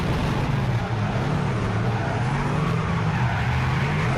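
An old Lexus drifting on semi-slick tyres at a drift track day, its engine roaring in a steady, loud, unbroken drone from start to finish, with no voices.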